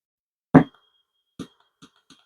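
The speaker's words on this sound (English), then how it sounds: "Okay, I heard a click." A single sharp click rings out from a Down4sound D4S JP8 amplifier under test, followed by three fainter ticks spaced apart in an otherwise silent background.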